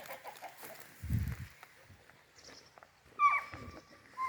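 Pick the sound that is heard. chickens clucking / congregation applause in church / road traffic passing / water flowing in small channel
chickens clucking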